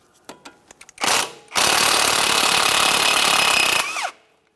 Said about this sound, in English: We'll use a 17mm to loosen our mounting nut